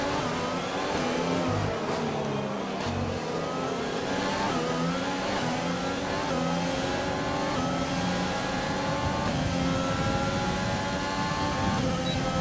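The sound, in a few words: Formula 1 car passing in the video game F1 2020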